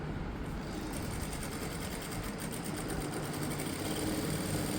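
A sewing machine runs steadily, stitching a 1.5-inch tuck on a blouse, with a continuous close whirring hum and no talk over it.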